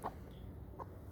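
A hen clucks twice, a short soft call near the start and another just before the end, faint and close by against a quiet background with no talking.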